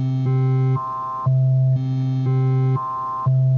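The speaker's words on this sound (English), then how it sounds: "So here's what the basic rotor sound is." Solaris synthesizer rotor patch steps through its oscillators every half second, producing clean sustained tones that jump between pitches in a regular repeating cycle, close and even in level.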